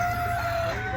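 A rooster crows at a local market in Nepal: one short, loud, close call with a sustained tone over steady market noise.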